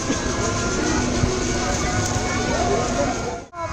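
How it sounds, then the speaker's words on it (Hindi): A dinosaur-themed kiddie train ride at a Ramleela fair in Kidwai Nagar, Delhi, gives a steady rumbling, clattering drone of machinery and crowd noise that runs continuously before briefly dropping out. "तो ये है भाई पहला झूला, डायनासोर वाला रेलगाड़ी।"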